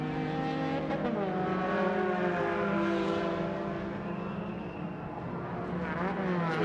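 An MRF Challenge race car drives through a right-left flick of corners, its engine droning loudly and steadily with pitch shifts as it turns and accelerates, heard alone.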